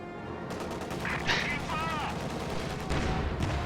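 Anti-tank guns fire at a Panzer IV in a real-time strategy battle, a rapid, clattering volley of gunshots under a steady rumble of combat, joined by a couple of high whistling effects.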